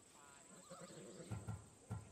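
A Thessalonian horse in Assassin's Creed Odyssey whinnies faintly, with a couple of soft low snorts or hoof sounds near the end, in a quiet game scene.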